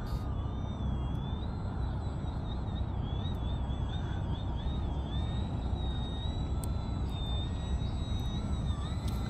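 A Flex Innovations RV-8 model airplane drones overhead with a steady, slightly wavering whine that rises and falls as it passes, over a constant wind-like background hiss.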